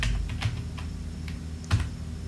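Brisk typing on a computer keyboard, a scatter of light clicky keystrokes at an uneven pace, close and fairly clear over a low background hum, no voices.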